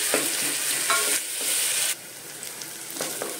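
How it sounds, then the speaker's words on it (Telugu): Thinly sliced onion frying in a pan for a bottle gourd leaves cooker dish, sizzling steadily with a few scraping stirs of a spoon, the sizzle softening after a couple of seconds. "ఆనియన్స్ ఫ్రై అయినాయి."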